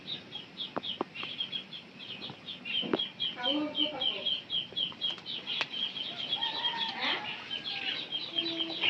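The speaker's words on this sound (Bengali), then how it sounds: "আর এই যে এখানে মুরগি আছে আমাদের।" Farmyard chickens, with scattered soft clucks and short calls over a steady background of birdsong, a few sharp knocks and wing flutters mixed in; fairly faint and close, with no talking.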